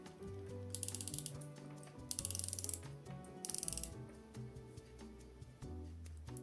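A bronze and stainless steel dive watch bezel being turned, giving bursts of fine rapid ratcheting clicks in three short runs, close and quiet over a low background hum.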